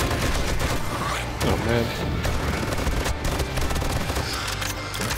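Gunfire in the survival game 7 Days to Die rattles in rapid bursts of shots during a zombie horde fight, loud and continuous, with someone briefly speaking over it.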